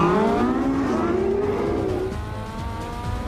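Porsche sports car launching hard from a race start, its engine note climbing steadily as it pulls through the revs, loud and continuous, close up with no talk.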